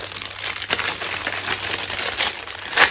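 Plastic packaging around a small Aveeno Restorative Skin Therapy jar crinkles continuously at close range, loud and unbroken, with no speech.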